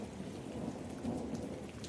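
A thunderstorm of steady rain with rolling thunder, continuous and fairly quiet, no voices.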